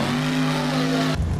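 A truck's engine in the BeamNG driving game drones at a steady high pitch while it drives, then cuts off sharply into a rough skid and tire scrub near the end, loud and close with no talking.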